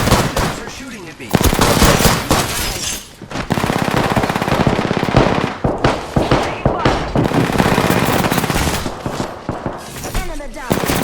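Rapid automatic gunfire in an Apex Legends firefight. Dense, loud bursts run almost continuously across the clip, with brief pauses between volleys and game voice callouts mixed in.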